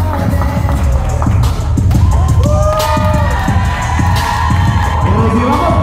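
Guests at a wedding reception cheer loudly for the newlyweds' entrance, with a lively mix of crowd noise, whoops and excited shouts close by and scattered voices rising throughout.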